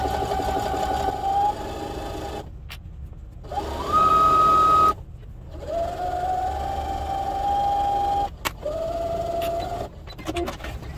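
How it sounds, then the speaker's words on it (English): A sewing machine runs in sustained bursts along the folded edge of a garden kneeling pad, its motor whirring steadily with a few short pauses and speed changes between runs. "I'm just gonna go ahead and sew along this folded edge"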